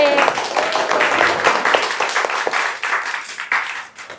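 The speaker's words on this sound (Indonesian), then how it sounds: "Sekali lagi aplaus dulu buat kelas 12D" Students of class 12D applauding at the end of a school lesson: a dense burst of many hands clapping that fades slightly over a few seconds, loud and close.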